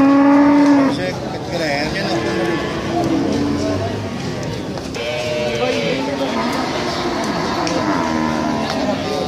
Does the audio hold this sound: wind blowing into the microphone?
no